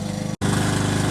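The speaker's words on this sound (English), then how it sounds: "Oh, he started mowing." A lawn mower engine runs steadily close by next to a cricket ground, cutting out for a split second before roaring back at a loud, constant drone.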